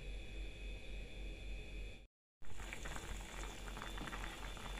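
Chicken with black pepper and spice powders simmers in a pot, giving a steady bubbling hiss that cuts out briefly, then resumes at the same level.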